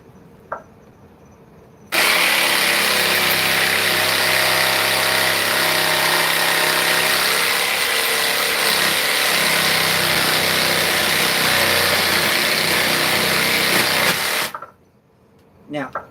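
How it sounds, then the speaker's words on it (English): A jigsaw cutting opal starts abruptly and runs loud and steady for about twelve seconds with a harsh, buzzing whine, then cuts off, leaving faint room noise and a few small knocks. "when you're actually cutting something with a jigsaw"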